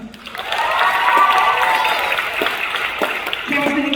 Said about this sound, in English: Oh, clap for her name.